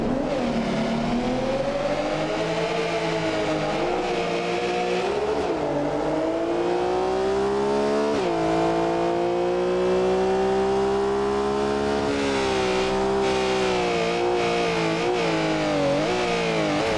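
BMW and Porsche engines roar in a BeamNG Drive race, sustained high revving with rising and falling pitch as they accelerate and shift, loud and continuous without speech.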